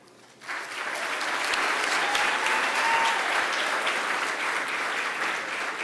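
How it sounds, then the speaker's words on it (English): An awards ceremony audience breaks into applause for the Civic Leader of the Year, a dense, sustained wash of clapping that swells in quickly and stays strong and even. "Please join me with a round of applause for the Civic Leader of the Year."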